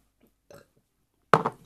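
Burping after drinking vinegar for a challenge: a faint short burp, then a louder, deeper one with a second pulse, heard close up.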